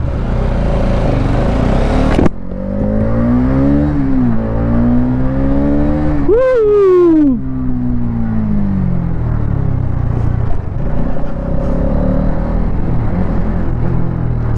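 A 2025 Hero Xtreme 250R motorcycle in track mode pulls away in first gear, its engine note rising and falling through a couple of sharp revs to a high whine, then settling into a steady loud drone under wind rush.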